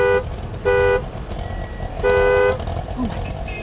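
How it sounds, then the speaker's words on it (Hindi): A car horn honks loudly three times in short blasts, close by, over street noise and chatter. "हॉर्न मारो।"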